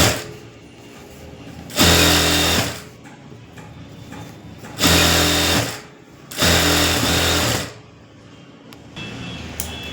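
A sewing machine stitches a border onto a puff sleeve in three loud, rapid bursts separated by short pauses, close up and without talk.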